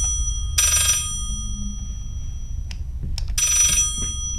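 Telephone ringing down a corridor in the horror video game Layers of Fear, two bright bursts of ringing about three seconds apart, loud over a low rumbling ambience.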